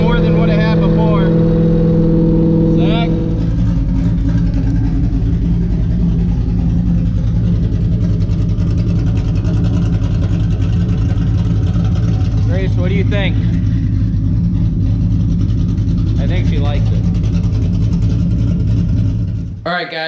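A cammed 4.6 V8 in a New Edge Ford Mustang drift car idles with a loud, choppy, lumpy rumble that runs steadily through the whole stretch. Voices talk over it briefly.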